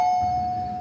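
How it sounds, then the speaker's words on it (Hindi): A doorbell chimes indoors in a home, a single sustained bright tone ringing out clearly and steadily for under a second with no voices. "बज गई घंटी"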